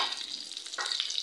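Red amaranth greens tempered in hot oil, a brief crackling sizzle with a few sharper spits of frying.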